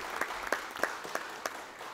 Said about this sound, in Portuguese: uma salva de palmas para o nosso grande amigo